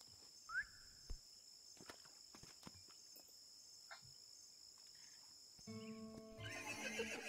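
Scattered hoof clops and a brief horse snort from a Wild West video game sound over a quiet bed of chirping insects, ending in a louder burst of mixed noise as the horse crashes.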